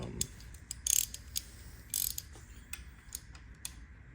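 A hand ratchet loosens a bolt on a rebuilt 2022 BMW M4 engine, giving a few quiet, scattered clicking bursts against a low steady background hum, with no talking.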